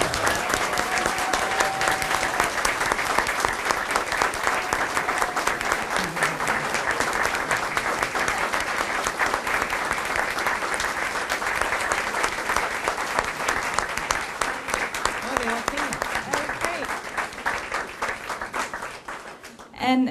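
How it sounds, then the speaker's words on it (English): Long, steady applause from an audience honoring students at a public library ribbon cutting in Irondequoit, a dense wall of clapping that holds for about twenty seconds before tapering off at the end. "So please join me in giving these students a round of applause."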